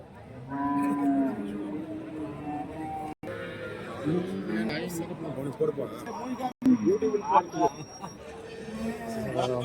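Cattle low repeatedly amid a busy crowd at the Orappam cattle market in Krishnagiri, Tamil Nadu, moos overlapping with chatter and voices close by.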